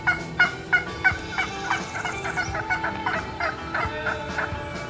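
A turkey call imitating a hen turkey, producing a rapid run of raspy yelps in a steady rhythm, close and clear over faint background noise.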